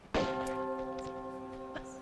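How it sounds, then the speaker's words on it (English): A bell in Tomb Raider 2 is struck once and rings out with a clear metallic tone that decays slowly, with a faint second touch near the end. "you need to ring the bell to actually get through that door"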